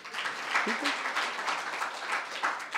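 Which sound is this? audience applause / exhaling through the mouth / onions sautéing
audience applause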